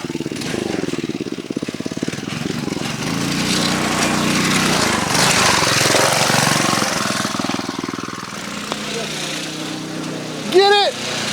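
A go-kart engine runs hard while the kart spins donuts, a loud, close, rasping drone that rises and falls steadily, with a brief shout near the end.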